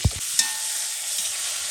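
Eggplant is mixed with salt and turmeric using a spatula in a karahi, with two quick scraping knocks at the start over a steady sizzling hiss.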